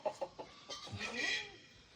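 A white silkie chicken on a farm clucks in a few short, quick notes followed by a softer drawn-out call, close but faint, with no talking.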